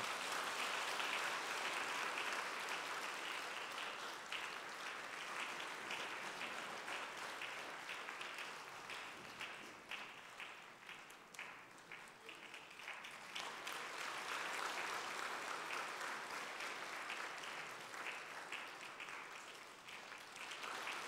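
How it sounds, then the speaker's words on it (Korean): A church congregation during a Sunday worship service in Daegu applauds at length, with steady, sustained clapping heard from a moderate distance across a reverberant hall, swelling slightly near the end, and no talk over it. "박수로 축하해 주십시오."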